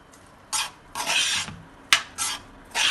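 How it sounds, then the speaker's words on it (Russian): Salad ingredients tossed and stirred with oil in a bowl, making several short, close rasping and scraping strokes with brief pauses between them, no voices. "Все это быстренько перемешиваем."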